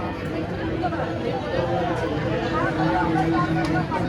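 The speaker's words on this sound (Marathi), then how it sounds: "इतका गर्दी आहे ना गणपतीला." A packed crowd at a Ganpati temple fills the air with continuous, close babble of many overlapping voices, a dense and steady murmur with no pauses.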